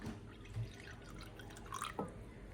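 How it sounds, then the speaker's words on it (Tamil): Water trickles and drips into a small lamp vessel decorated with turmeric and kumkum for a Karthigai lamp ritual, a faint, close sequence of scattered drips and light splashes with no talking. "தண்ணி ஃபில் பண்ணுறேன்."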